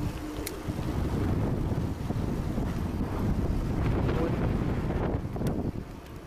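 Wind buffeting a microphone while riding a motorbike along a road, a loud, rough, low rumble that surges and gusts continuously, with no clear talk over it.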